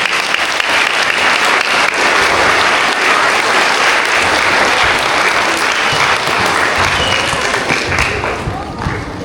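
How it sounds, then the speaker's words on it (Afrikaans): A school hall audience applauds pupils from grades one to three at a prize-giving assembly, a loud sustained burst of clapping from a large crowd lasting several seconds before fading slightly at the end. "Ons klap vir hulle lekker."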